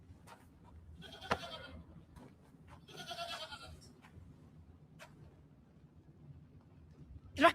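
A goat bleats twice, two wavering cries over a quiet background, followed by a sharp noise at the end.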